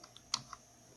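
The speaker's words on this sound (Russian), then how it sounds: "F10 и ввод." Two sharp key presses on a computer keyboard while exiting the BIOS setup of a Dell Wyse Z Class thin client, a faint click followed by a louder one, alone in a quiet room.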